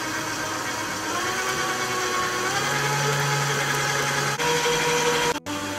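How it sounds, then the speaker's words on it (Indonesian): An electric hand mixer whirs steadily as it beats a yeast sponge cake batter, a loud continuous motor drone with a low hum that holds for several seconds before briefly cutting out near the end. "kita kocok sampai dia tercampur betul"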